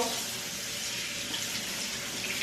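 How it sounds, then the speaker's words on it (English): Tap water runs steadily into a sink as a jalapeno is rinsed beneath it, a continuous close hiss and splash with no talk. "let me rinse off the jalapeno"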